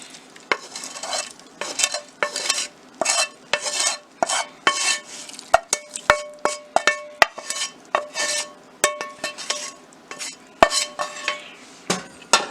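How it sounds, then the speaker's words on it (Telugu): Fried onions are stirred into a buttermilk curry (majjiga pulusu) in a pot, with a quick run of close, loud spoon scrapes and clinks against the metal, rhythmic and repeated throughout. "ఇలా బాగా కలుపుకొని ముందుగా ఫ్రై చేసుకున్న ఆనియన్స్ని వేసుకోవాలి"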